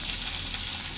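Curry being reheated in a pan on a home stove, giving a steady close sizzle and hiss that carries through the whole moment with no talk over it.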